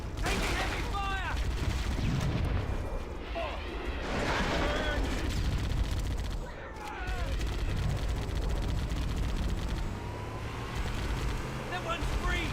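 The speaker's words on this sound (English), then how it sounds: "Taking heavy fire!" Heavy gunfire in Halo: Combat Evolved, dense bursts of weapon fire and explosions layered with game music and effects, loud and continuous with a brief lull midway, with a player talking over it.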